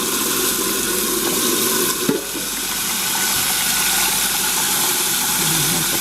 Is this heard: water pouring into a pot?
yes